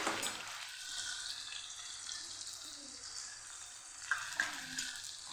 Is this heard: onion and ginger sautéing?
yes